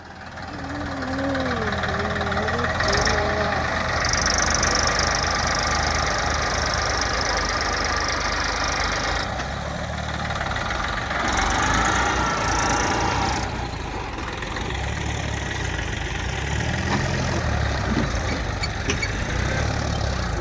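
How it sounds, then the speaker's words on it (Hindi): Tractor engine running steadily on a muddy field while a second tractor comes to pull out a stuck, loaded soil trolley, a loud continuous diesel drone that stays close throughout. "तो हमारा दूसरा ट्रैक्टर आ रहा है, हम इसे खींच के निकालते हैं।"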